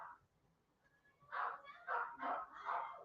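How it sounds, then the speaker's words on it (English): Several dogs yap in a quick run of four or five sharp barks, faint and distant, as if coming from another room behind a quiet indoor background. "I don't know if y'all can hear my dogs barking in the background."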